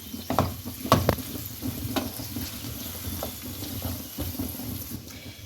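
Aloo karela sabzi, a dish of potato and bitter gourd, being stirred and mixed in a frying pan, with intermittent scraping strokes over a steady low sizzle, close and moderately loud, and no talking.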